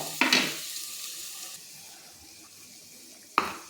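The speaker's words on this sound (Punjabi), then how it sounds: "ਤੇ ਇਧਰ ਆਪਣੇ ਪਿਆਜ਼ ਭੁੱਜੀ ਜਾਂਦੇ ਆ" Onions frying in oil in a pan give a steady low sizzle, with a louder stir or clatter near the start and another sharp burst near the end.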